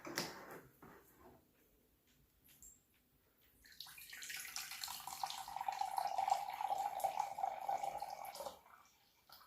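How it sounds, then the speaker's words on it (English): Apple juice and apple cider vinegar are poured into a bottle, a faint gurgling trickle that starts softly and builds into a steady, close stream before stopping. "apple juice and apple cider vinegar, half a cup of each, should fill up about half of this bottle"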